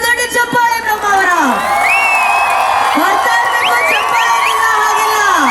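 A large crowd at a Kundapura event for actor Rishab Shetty cheers and whoops loudly, shrill rising shouts and whistles layered over a dense roar, with no clear clapping.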